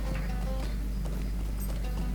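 Horse hooves from Lord of the Rings Online, a steady clip-clop of a mount's footfalls over a loud constant low hum, with no voices.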